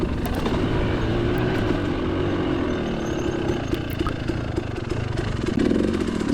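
An adventure motorcycle engine labors steadily while climbing a hill at a Kentucky cross-country race, a continuous mid-range drone that holds at a fairly even loudness with a slight rise near the end.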